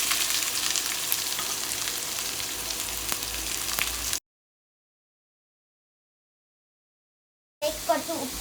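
Coconut pieces and popped mustard seeds sizzle in a pan for a prawn roast. Close, steady frying with stirring lasts about four seconds, then goes silent before a short burst of sizzling and stirring returns.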